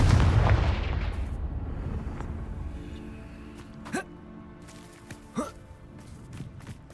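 A Confringo explosion spell from Hogwarts Legacy opens with a loud, rumbling boom that slowly fades, followed by two sharp, crackling blasts a few seconds apart and some lighter impacts in the background.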